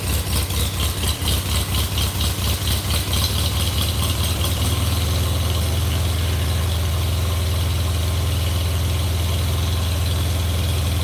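An engine idles steadily right after a cold start, loud and close, with a lumpy pulsing rhythm for the first few seconds that smooths into an even drone.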